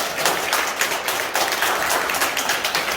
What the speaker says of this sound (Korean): 일단 박수 한번 쳐주세요